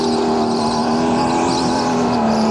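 A go-kart runs on the track of the world's largest indoor go-kart track, a steady close engine drone holding a constant pitch with a slight downward drift as the throttle eases.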